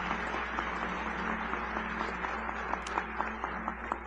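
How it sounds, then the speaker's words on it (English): Audience at a spring college commencement ceremony claps in a steady, moderately distant round of applause, thinning toward the end with a few distinct claps standing out. "How about a round of applause for Dr. Coe?"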